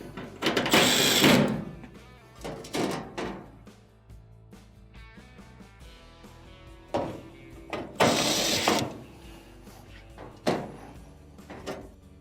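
Screws and a metal cover plate being refitted on an LG dryer during a thermistor repair, with loud scraping, sliding metal clatter and ratcheting bursts separated by quieter handling, close up.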